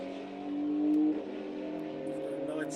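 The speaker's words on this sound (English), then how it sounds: "Another GTI tuned by Anson Tuning down the road." A tuned Volkswagen GTI drives past at a drag-racing show, its engine droning with a steady tone that swells briefly as the car goes by, while an announcer talks over it.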